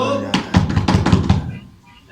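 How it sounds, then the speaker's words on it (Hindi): Knocking on a door in a Hindi stage play: a quick series of about six firm raps, close and fairly loud, before fading into quiet room tone. "इतनी आधी रात को क्यों दरवाजा बजा रहे हो?"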